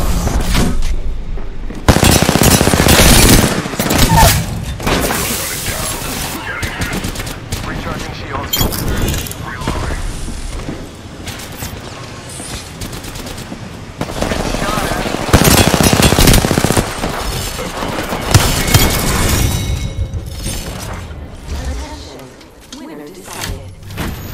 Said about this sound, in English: Taking fire. Yeah, getting shot at.